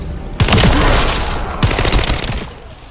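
Gunfire in The First Descendant, a third-person shooter video game, comes as two long, loud bursts of rapid automatic fire, each sustained for about a second before tailing off.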